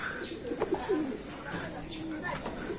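A crested homing pigeon in Catanauan, Quezon, gives soft, low coos in a few short phrases, close by, over faint background hiss.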